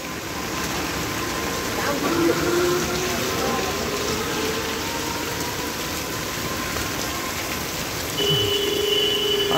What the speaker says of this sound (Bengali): আর আজকে সকাল থেকে অনবরত বৃষ্টি হয়ে চলছে।